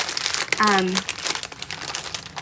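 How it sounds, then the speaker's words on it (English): Plastic packaging from a diamond painting kit crinkles and crumples close up in a busy, crackling rush, with a voice talking over it. "my weakness is I talk during the crinkling"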